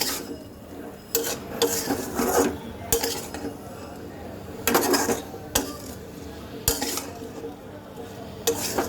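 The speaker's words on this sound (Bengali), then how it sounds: "এখন সব কিছু একসাথে সুন্দর করে মিক্স করে দেব" A spoon scrapes and clanks in a pan while spices and coriander powder are mixed into oil for a fish curry, producing irregular metallic knocks and rubbing strokes, close by, over a faint sizzle.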